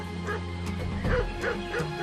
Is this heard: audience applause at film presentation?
no